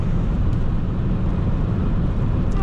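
Hyundai i40 1.7 CRDi diesel car from 2012 pulling hard under kickdown, a steady loud low engine drone with road and wind roar filling the cabin continuously, no talk over it.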